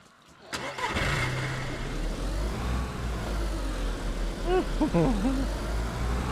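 A car engine in the video game DayZ starts with a sharp thump, then rumbles and revs steadily; a few brief voice-like chirps float over the continuous engine drone.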